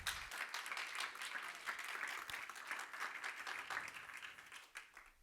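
Congregation at a church service clapping together, a dense steady burst of applause that fades slightly toward the end.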